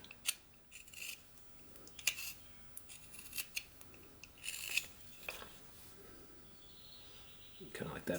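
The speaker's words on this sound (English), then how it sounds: "And then we can kind of notch the top back just a bit." A knife carves a notch into basswood, making a string of short, crisp scraping cuts at an irregular pace. The cuts are close and fairly quiet, and a faint voice can be heard at times.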